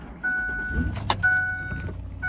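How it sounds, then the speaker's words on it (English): A Ford car engine turns over on a cold start and idles nearby while a thin, steady high-pitched power steering whine comes and goes, broken briefly by a sharp mechanical clunk. "got a little power steering noise when you first start it"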